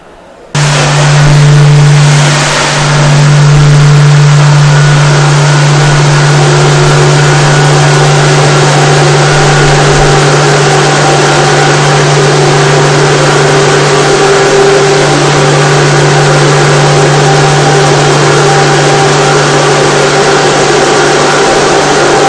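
A water pump starts up and runs steadily on a Pelton wheel turbine test rig, giving a loud, continuous motor hum with a strong low drone and broadband rushing noise, with no speech.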